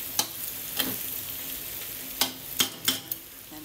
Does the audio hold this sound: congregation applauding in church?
no